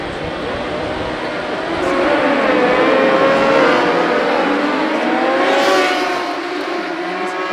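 Superbike engines rev loudly on the grid at the start of a 2018 WorldSBK race at Interlagos, Brazil, with a dense, sustained, wavering roar of many machines that swells in the middle and eases slightly at the end.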